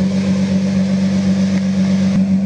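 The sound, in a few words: V12 sports car engine idling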